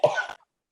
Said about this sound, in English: I'm going to start coughing now.